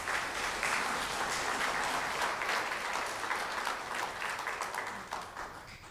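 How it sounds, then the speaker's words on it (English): Dense, steady audience applause fills a community gathering in Putnam County, a broad crowd of hands clapping loudly throughout and tapering slightly near the end. "Let's give Quint and his staff another big round of applause"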